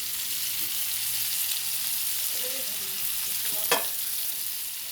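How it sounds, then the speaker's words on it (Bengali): Potatoes frying in oil in a pan, a steady close hiss and sizzle throughout with one brief utensil clink near the end, no voices. "আবারও তেল দেওয়া হচ্ছে, কারণ তেলে তেলে ভাজতে হয়"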